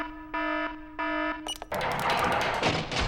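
An alarm system sounds during a test: two loud, evenly spaced electronic beeping tones, then a brief flurry and a harsh, continuous blaring siren that fills the rest.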